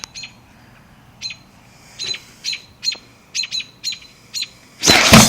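A bird outside a window gives a series of short, sharp chirping calls in uneven bursts, fairly close, ending in a loud burst of broadband noise.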